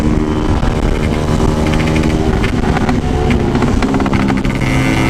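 A Yamaha RX King motorcycle with a torn oil hose inside runs at top speed, its engine producing a loud, continuous, raspy roar that stays steady from start to finish.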